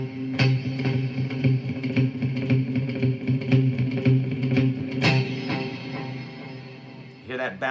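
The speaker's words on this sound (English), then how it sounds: "What happens if there's delay there?" Electric guitar played through a delay effect, a run of picked notes whose repeats bounce and overlap into a dense, echoing wash, with a brighter strum near the end, all fairly loud and steady.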